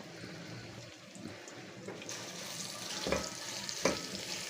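Finely chopped onions frying in oil for palak gosht, a steady close sizzle with occasional stirring scrapes that grow a bit louder toward the end.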